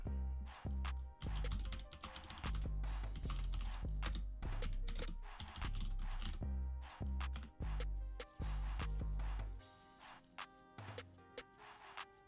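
Rapid keystrokes clatter on a computer keyboard in a steady, close run that stops near the end, leaving a few faint scattered taps.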